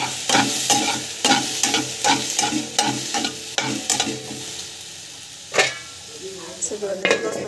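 Chutney ingredients being sautéed in a pan: a spatula scrapes and taps in a steady rhythm over a soft sizzle, close and fairly loud, with the stirring pausing near the end.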